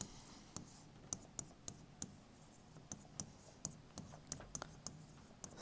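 Pen writing a calculation by hand on paper, a quiet close series of irregular taps and short scratchy strokes continuing steadily throughout.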